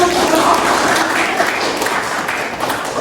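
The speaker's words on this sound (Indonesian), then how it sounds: "bagus sekali, tepuk tangan" Dense, steady applause from an audience filling a university teaching session, sustained evenly for a few seconds with no pauses.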